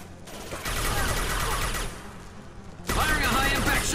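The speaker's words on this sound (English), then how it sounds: "Firing a high impact shot." High impact gunshots in the video game Mass Effect 2 during a fight on a captured mining facility: two long, loud bursts of dense crackling weapon fire, separated by a brief lull, filling the mix up close.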